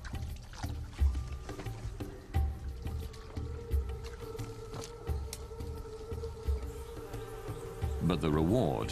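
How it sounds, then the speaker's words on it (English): Bees swarming around wild hives in a tiger-inhabited forest, a steady close buzz of many insects with drifting tones, periodic soft thumps and a rising whine near the end, alongside faint voices. "This is what the honey collectors have searched for: hives dripping with bees and honey."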